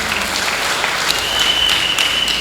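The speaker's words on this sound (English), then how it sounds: "I think she deserves a round of applause for that." An audience at a district awards ceremony breaks into sustained applause, a dense, loud patter of many hands clapping continuously, with a faint high whistle cutting through partway.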